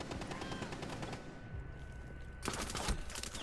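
Rapid automatic gunfire in the tactical shooter game Rainbow Six Siege, a dense continuous burst of shots that swells louder near the end, heard through game audio with no clear talk.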